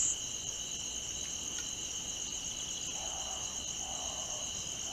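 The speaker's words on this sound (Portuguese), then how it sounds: "Grilos enlouquecidos rouquejam seus cantos." Crickets chirp in a continuous high, steady trill, several insects layered together, constant throughout with a faint low hum in the background.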